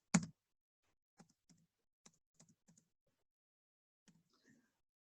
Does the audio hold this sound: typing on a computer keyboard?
yes